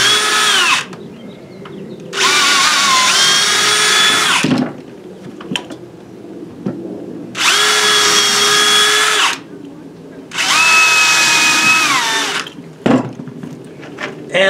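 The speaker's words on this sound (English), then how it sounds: "I'm using a 1/8 inch drill bit." A power drill with a 1/8 inch bit whirs loudly in three long bursts of several seconds each, with quieter handling noises and brief pauses between runs.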